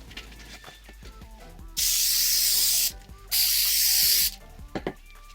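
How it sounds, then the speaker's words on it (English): Two sustained bursts of spray adhesive hiss loudly from a can, each about a second long, with quieter handling clicks and rustling around them while building a center console. "I used spray adhesive to stick 2 layers of an egg crate mattress topper to the lid of the storage area"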